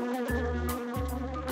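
A steady, loud insect-like drone with a rough pulsing buzz continues throughout, close and unbroken, like bees buzzing, in a Teen Titans Go! cartoon.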